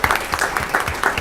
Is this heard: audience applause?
yes